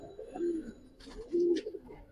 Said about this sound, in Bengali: এক জোড়া খয়রাগলা কবুতর দেখেন ভাই